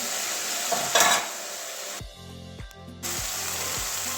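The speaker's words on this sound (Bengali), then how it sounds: "যতক্ষণ মশলা থেকে তেল ছাড়ছে না ততক্ষণ পোতাবো" Spiced masala with potatoes and green chillies frying in oil, a close steady sizzle with a brief louder stirring burst, broken by a quiet stretch of clanking utensil knocks before the sizzle returns.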